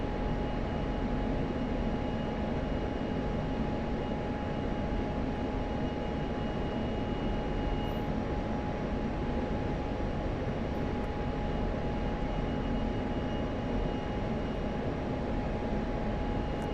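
An aircraft engine drones continuously as the plane climbs to higher altitude over Iraq in DCS World, a loud, even, unbroken roar with no pauses.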